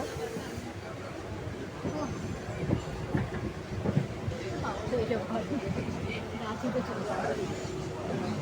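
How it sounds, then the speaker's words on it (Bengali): A train pulls away from a station with a low rumble and clickety-clack of wagons building over several seconds, while nearby people talk and chatter over it. "ট্রেনটা ছাড়লো"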